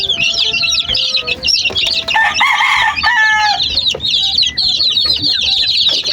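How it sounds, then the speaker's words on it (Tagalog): Chickens on a farm with young chicks, giving dense overlapping clucks and squawks and a longer crow-like call in the middle, loud and close, with no talking. "Yung mga sisiyo natin mga kanokis."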